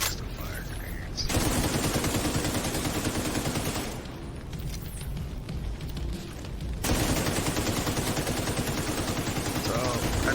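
Gunfire in the Division 2 video game, rapid sustained bursts of automatic shots with short breaks, dense and loud alongside a speaking voice and game sounds.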